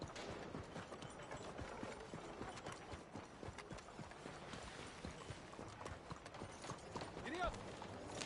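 Horse hooves clip-clop steadily in Red Dead Redemption 2, faint and regular beneath busy town ambience with a voice briefly heard.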